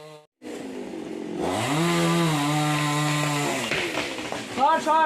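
A chainsaw cuts dry tree branches, its engine droning and shifting pitch as it bites into the wood, with people talking over it.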